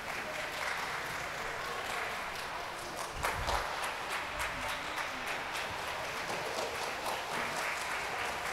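Applause at a remote high school swim meet between Oliver Ames and Sharon, a sustained patter of clapping from a modest crowd in an echoing pool venue, steady throughout with a brief thump partway in.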